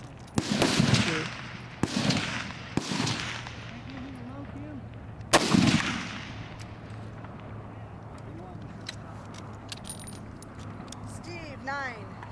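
Several F-Class rifle shots fired at a 1000 yard range in Phoenix, Arizona, each a sharp loud crack with a trailing echo, spaced a second or more apart. Faint voices and outdoor background noise follow.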